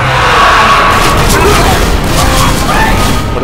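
Fire erupting in the Left 4 Dead No Mercy versus match, a loud, sustained roaring whoosh of flames with a boomy burst that fills the whole stretch.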